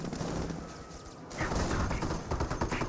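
Dense rifle and machine-gun fire in the strategy game Company of Heroes, rapid overlapping shots rattling continuously with a louder burst partway through.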